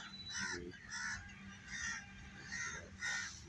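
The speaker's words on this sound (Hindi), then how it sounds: "देखते कौवे छुप रहे हैं उनके डर से," Several harsh caws from crows hiding from a hunting hawk, one after another at a steady pace, moderately distant with a faint outdoor background hum in a Pakistani village.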